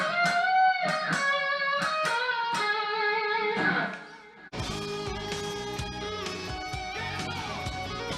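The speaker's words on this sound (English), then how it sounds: "The first lick here is this kind of tap bending melodic idea" An electric guitar plays a lick built on tap bends, moving through a minor pentatonic shape: sustained, singing bent notes with distinct attacks, then a brief dip before a denser, fuller run of notes rings on to the end, with no talking.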